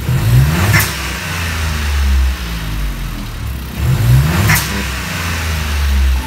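A VW Up TSI engine with an exhaust diffuser fitted revs up twice, each blip rising to a loud burst over a steady low idle rumble, heard close with no talking.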